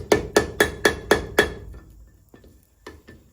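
A hammer strikes hot iron while forge welding a U jaw tong, six quick ringing blows close by, then a pause and a few lighter, fainter taps.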